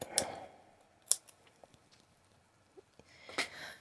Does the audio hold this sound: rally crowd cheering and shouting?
no